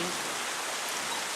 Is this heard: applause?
no